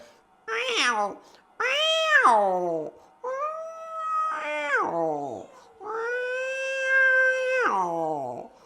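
A human voice mimics two cats fighting, producing drawn-out, wavering yowls and caterwauls in several loud, close phrases with brief pauses between them.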